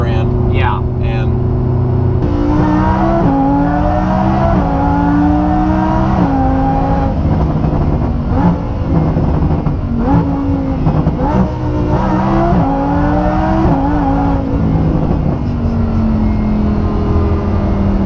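A performance car making almost 500 horsepower at the wheels revs loudly and repeatedly, its engine note climbing and falling in several close sweeps while people talk over it.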